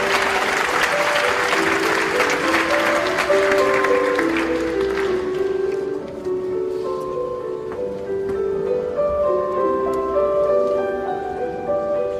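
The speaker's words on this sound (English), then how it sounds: "please give our 8 distinguished guests a big round of applause" Dense audience applause at the closing ceremony of the 17th IFAC World Congress, loud and steady for several seconds before thinning out, with music tones sustained beneath and continuing as the clapping fades.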